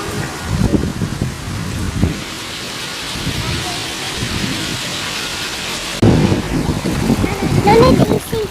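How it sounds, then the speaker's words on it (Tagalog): Heavy rain roars down on a street during the Kuwait floods, a constant loud rush of water with people talking over it. "lakas ng ulan, grabe."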